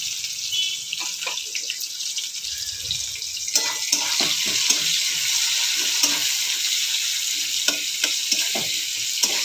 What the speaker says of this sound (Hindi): पियाज पकईदे